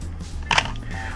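A Miranda Sensorex SLR camera shutter fires once, a short sharp mechanical click heard up close and alone over a quiet background.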